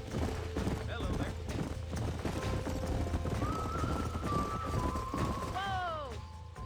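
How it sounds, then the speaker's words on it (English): Horses in the Western video game Red Dead Redemption clop along steadily, with a couple of neighs and whinnies rising near the end, over background game sound. "These are fine horses."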